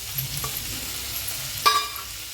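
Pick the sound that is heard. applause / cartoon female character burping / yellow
yellow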